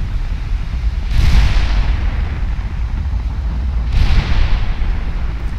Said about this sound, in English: Here comes the next salvo.